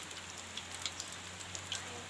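Steady outdoor rain falls as a soft, faint hiss, with occasional small drop taps. No children's voices can be made out.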